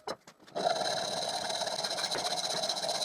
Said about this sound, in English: And I cut the threaded rod.